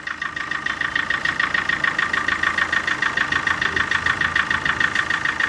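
A used Tata Manza car engine idles steadily after starting, with an even, rhythmic mechanical chatter that stays close and moderately loud throughout.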